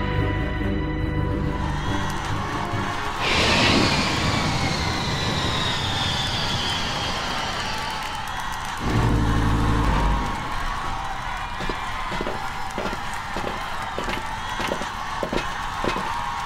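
Overwhelming cheering from a huge crowd of masses greeting a returning spaceship crew in a sci-fi audio drama, a broad roaring wash that swells, with a louder burst partway through and rhythmic pulsing near the end.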